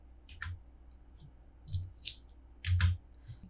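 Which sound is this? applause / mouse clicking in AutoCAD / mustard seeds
mouse clicking in AutoCAD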